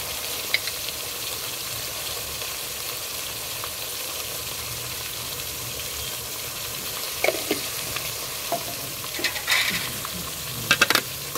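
Chopped tomatoes frying in a pan with salt and turmeric for a potato curry are stirred, giving a continuous loud sizzle with occasional scraping clatter of the spoon near the end.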